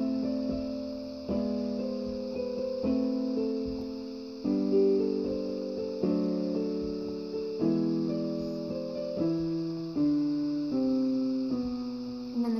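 Organ playing the left-hand part of a piece: sustained low chords and notes change in a slow, even sequence, each held for about a second, clear and alone.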